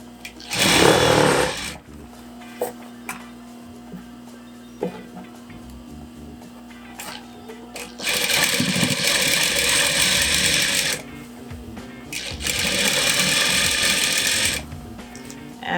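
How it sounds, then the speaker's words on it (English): Sewing machine running a straight stitch along a fabric edge of a scrub bag, with a quick burst at the start, then two long steady runs of rapid mechanical whirring separated by quieter pauses with small clicks. "we're just going to do a nice straight stitch right along the edge here"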